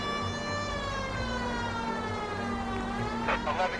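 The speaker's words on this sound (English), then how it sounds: "These sirens are kind of trash sometimes," A wailing police siren in the video game L.A. Noire sweeps steadily up and down, loud and close, with a low engine hum beneath and a brief voice near the end.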